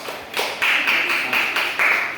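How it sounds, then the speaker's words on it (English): A room of people claps for a guest, with a short burst of bright, steady hand claps swelling in several waves, close and fairly loud, and no talking over it. "I think that deserves a round of applause"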